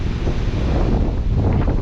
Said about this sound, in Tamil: வண்டி ஓட்டும் போதெல்லாம் பார்த்தீங்கன்னா சரியான காற்று அடிக்குது.